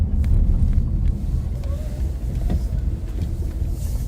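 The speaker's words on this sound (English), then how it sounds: "This car makes noise, by the way." A sheriff's patrol car gives a low, droning moan while turning, a steady rumble of engine and road noise throughout, with no voices.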